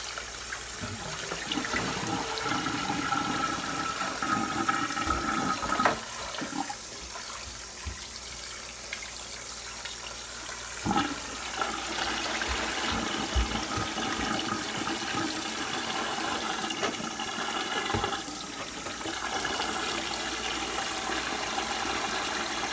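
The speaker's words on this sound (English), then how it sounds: "Kind of let some of the water drain, go out." Water running and gurgling steadily as it drains out of a kitchen sink or basin, a continuous wet wash with occasional splashy bumps, close and fairly loud with no talking.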